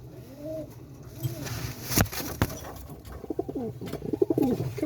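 Young pigeons cooing on a roof, soft repeated low coos close by, with a few sharp knocks and rustles partway through.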